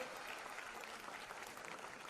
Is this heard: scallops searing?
no